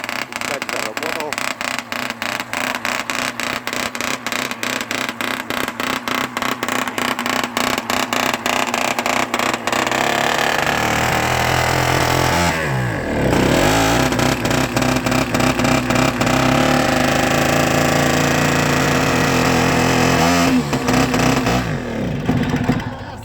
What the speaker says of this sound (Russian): Уже слышим, пускач заработал.